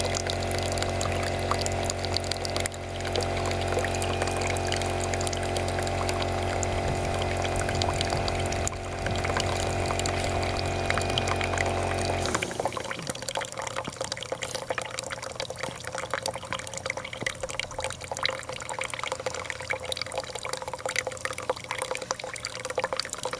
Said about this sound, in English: see if the fill motor kicks back on